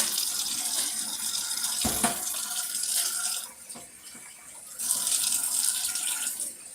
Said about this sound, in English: But I am running it under water.